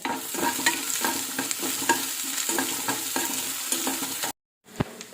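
Ginger, garlic, green chilli and sliced onion frying in a pan for palak curry, a busy sizzle with rhythmic scraping stirs, close and fairly loud, cutting to silence near the end before a single clack.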